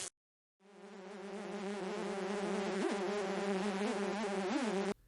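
Flies and mosquitoes buzz in one loud, steady, close drone that starts after a short silence and holds for several seconds with slight wavering pitch.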